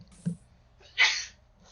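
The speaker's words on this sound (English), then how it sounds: "I'm about to sneeze." A single close sneeze with a short sharp intake just before it, heard alone in an otherwise quiet room.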